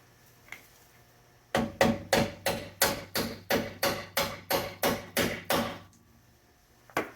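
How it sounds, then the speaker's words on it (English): A hammer strikes a socket fitted over a rusted, crusted bolt on a car's rear brake assembly: one faint tap, then about fourteen loud, evenly spaced metallic blows, close and alone. "So I kind of hammered on the socket a little bit."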